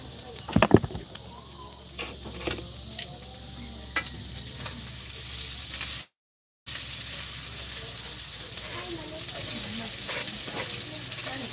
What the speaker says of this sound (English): Let me stir it.